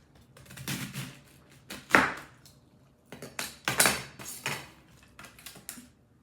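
A knife cuts through a fresh, washed head of cabbage in a series of crisp chopping strokes, several sharp cuts in quick bursts with brief pauses between them, close and clear with no talking.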